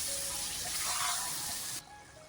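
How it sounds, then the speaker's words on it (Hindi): Hot water is poured into a pan of browned minced-meat keema, a bright hissing sizzle and splash that holds steady and then cuts off sharply near the end. "मैं इसमें गरम जो है 2 कप पानी डालने लगी हूँ।"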